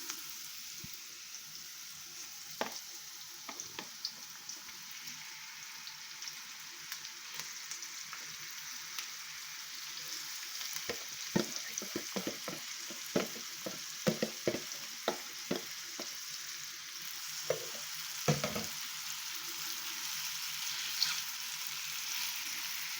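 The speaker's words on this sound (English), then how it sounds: "I'm going to put all my meat straight into my pot." Lamb curry meat frying in a pot, a steady soft sizzle running throughout with scattered sharper crackles and stirring clicks that thicken toward the middle.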